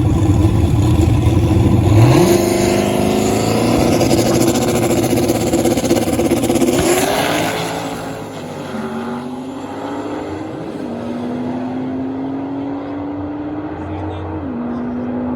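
A turbocharged car making a drag strip pass, its engine roaring loudly and revving up through rising pitch sweeps, then dropping to a lower steady drone as it pulls away, with no talk over it.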